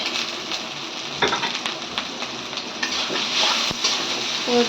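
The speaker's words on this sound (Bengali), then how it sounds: "গরম তেলের মধ্যে পেঁয়াজ দিয়ে দিচ্ছে কাঁচামরিচ" Sliced onion and green chilies hit hot oil for a fish dish, giving a continuous close hiss and crackle with scattered sharp pops and scraping stirs.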